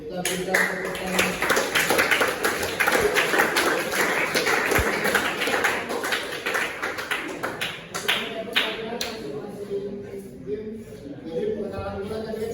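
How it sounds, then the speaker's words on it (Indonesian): A classroom group claps together for several seconds in a rough, scattered patter while a teacher keeps talking over it; the clapping thins out toward the end. "kita berikan tepuk tangan"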